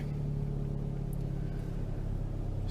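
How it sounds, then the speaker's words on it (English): A Fiat 500 Abarth climbs an uphill grade in sport mode with traction control off, its engine giving a steady, fairly quiet low drone that holds unchanged throughout. "I'm going to go ahead and do a demo how this Fiat handles an uphill climb"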